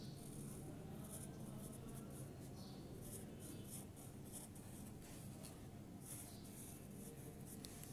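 Chalk or marker scratches and rubs steadily across a board during an English lesson, faint and continuous with short strokes.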